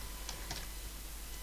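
Computer keyboard keys tapped for a Ctrl S save while building a tower defense game in Godot, a few quick faint clicks close to the mic with no talking.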